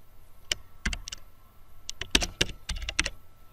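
Fingers typing on a computer keyboard, quick irregular clicks and taps close by, clustered in short bursts with brief gaps, fairly quiet, no talking.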